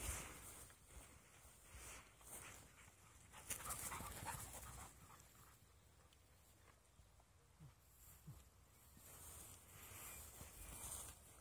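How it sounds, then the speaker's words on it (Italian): Dogs pant in quick, breathy rhythm outdoors amid steady rustling background noise, fairly faint, with occasional shuffling footsteps and no clear speech. "i cani sono qui"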